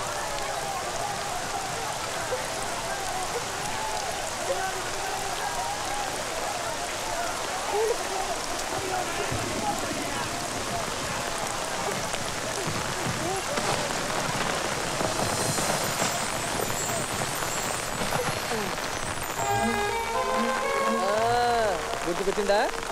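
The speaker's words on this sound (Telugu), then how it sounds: "అయ్యో వాన." Steady rain pours down in a movie scene, a dense even hiss of drops on surfaces throughout, with voices and some tonal sounds rising over it toward the end.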